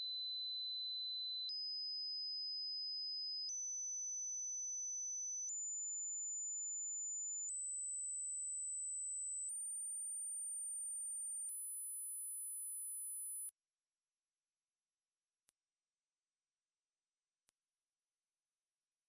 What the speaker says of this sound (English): Our test begins with a 20 Hz to 20 kHz sweep signal being fed into the amp's